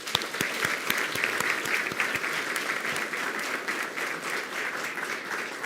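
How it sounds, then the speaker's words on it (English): A room at a school board meeting applauds students. A few sharp, close claps stand out at the start over a dense, sustained wash of crowd applause that continues evenly to the end. "how about we give these kids, these students, a round of applause one more time?"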